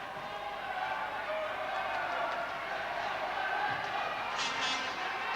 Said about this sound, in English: So the Durham crowd now urging on their Wasps